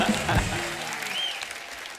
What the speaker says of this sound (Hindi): नया सीजन, नया माहौल, नई फिल्म, जोरदार तालियां।